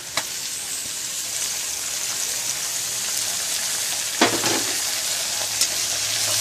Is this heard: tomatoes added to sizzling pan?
yes